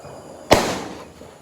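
A firecracker set off during Sinhala and Tamil New Year celebrations bursts once with a sharp, loud crack midway through, then its echo fades away over the following moment.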